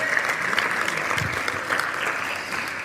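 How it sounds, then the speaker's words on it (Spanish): Church congregation claps loudly and steadily, a dense wash of applause with faint voices mixed in. "Dele fuerte ese aplauso al Señor."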